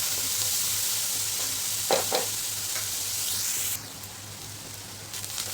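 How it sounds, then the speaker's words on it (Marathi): Onions sauté in a hot pan for a restaurant-style mushroom masala, giving a steady close sizzle with a few stirring clatters; the frying drops a little quieter partway through, and nobody speaks. "कांदा छान परतून घ्यायचा आहे"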